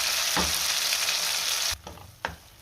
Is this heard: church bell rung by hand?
no